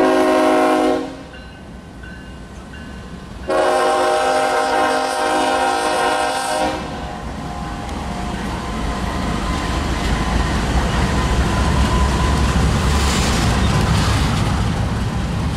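A BNSF freight train with a Heritage 1 paint-scheme locomotive passes near Chesterton, Indiana, sounding loud horn blasts in two bursts before the steady roar and clatter of rolling freight cars takes over, no voices.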